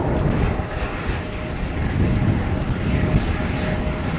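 A BA Airbus airliner rolls onto the runway threshold at Schiphol Airport with a steady, distant engine roar and a faint whine, heard continuously in open air.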